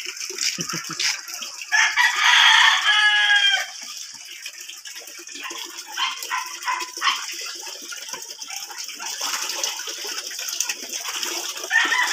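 Heritage chickens at feeding time cluck and a rooster crows, loudest early on, with further chicken calls scattered throughout the outdoor scene.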